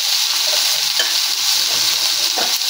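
Ridge gourd, potato and poppy seed curry frying in a pan, a steady loud sizzle with occasional stirring scrapes throughout.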